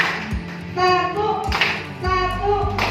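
Group of people clapping hands together on a count during a concentration exercise, a few crisp claps in separate bursts with a soft voice and faint tones in between.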